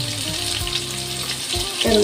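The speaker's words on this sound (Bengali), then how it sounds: "তেলে দিয়ে আলু পটলটা ভেজে" Potatoes and pointed gourd fry in hot oil for an Indian curry, giving a steady, loud, close sizzle that runs without a break, with a few faint tonal hums from the kitchen behind it.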